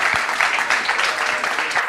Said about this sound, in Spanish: vamos a darle un buen aplauso por el papel que ha hecho